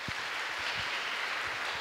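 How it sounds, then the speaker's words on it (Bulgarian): A steady wash of applause from a crowd, dense and even throughout, with a few low thumps underneath. "Саша Безуханова, аплодисменти за нея,"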